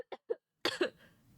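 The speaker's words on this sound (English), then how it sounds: "I'm just still coughing." A few short, dry coughs in quick succession, close and fairly quiet, followed by a brief pause and two harsher coughs.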